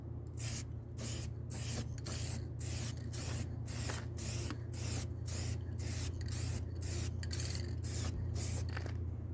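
A shaken rattle can of spray paint hisses out in a steady series of short, even bursts, roughly one per second, as a light coat goes on. Close and loud, with a low hum beneath and no talking.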